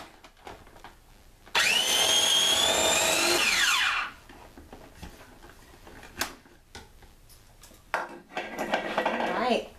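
A food processor purees baked pumpkin in one loud steady whir of about two and a half seconds, then stops. Brief clatter follows, and a second, shorter whir comes at the end.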